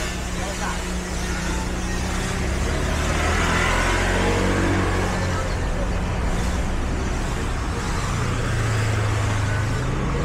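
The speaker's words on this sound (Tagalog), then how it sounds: "Nagdadaan ng sasakyan." Vehicles rolling past on a Cebu City street near the Yap-Sandiego Ancestral House, a continuous traffic rumble with one passing swell midway and a low engine drone toward the end.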